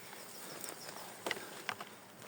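Bees buzz faintly among small wildflowers beside a narrow hiking trail, a soft outdoor hum with a few brief louder passes close by and no talking.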